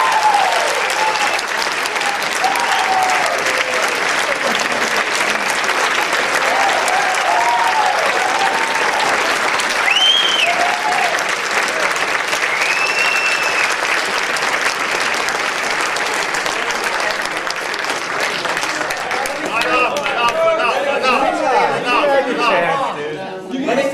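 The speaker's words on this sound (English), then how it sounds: "when people applaud for what I said about Hiroshima and Nagasaki" Prolonged audience applause at a talk fills the whole span, dense and steady, with scattered voices and cheers rising through it and some chatter toward the end.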